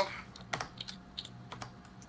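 Someone types on a computer keyboard, producing soft, scattered keystroke clicks that are quiet and close, with a faint background hum.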